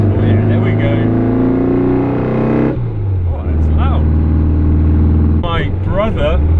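A Volkswagen Beetle 1303 RS with a four-speed gearbox pulling in third, its air-cooled engine droning loud and close, the pitch climbing, then dropping off as revs fall before building again, with a voice talking over it.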